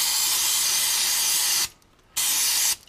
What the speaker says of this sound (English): brake cleaner.